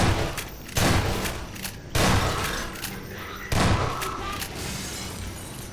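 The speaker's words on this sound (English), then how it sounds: "It wants me to use the shotgun here." Shotgun blasts in the Half-Life video game, three loud booming shots spaced about a second apart, each with a sharp attack and a lingering reverberant tail over game ambience.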